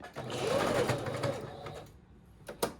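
A sewing machine stitches a thrifted garment, running in a fast, steady whir for about a second and a half before slowing and stopping, followed by a couple of sharp clicks.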